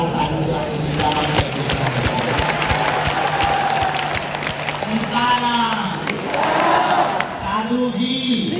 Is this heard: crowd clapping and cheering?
yes